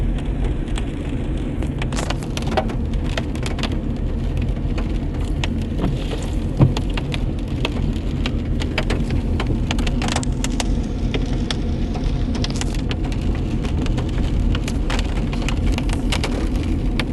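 Steady rain patters on surfaces nearby in a wooded park, a constant dense hiss with scattered sharper drops, unbroken for the whole stretch.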